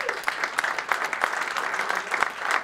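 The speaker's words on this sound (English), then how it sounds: "Round of applause, please." Audience clapping at a pre-Super Bowl NFL press conference, a dense, steady patter of many hands filling the room, moderately loud and unbroken with no talking over it.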